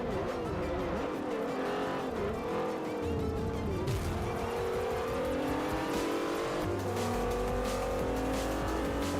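A race car in Forza Motorsport 4 roars under hard acceleration, its engine note climbing and shifting through gears, with tire noise and other cars close by, loud and continuous without talk.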